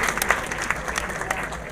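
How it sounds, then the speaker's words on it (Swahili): Audience clapping at a church event welcoming an archbishop, a dense steady round of applause from a crowd, fairly close, with faint voices underneath. "Naomba makofi yaendelee jameni."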